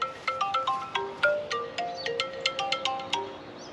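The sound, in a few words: phone ringing with an incoming call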